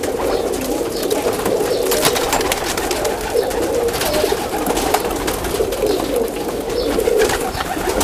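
Kamangar pigeons cooing in a loft, a dense continuous chorus of low, throaty coos from several birds close by, loud and unbroken with no talk.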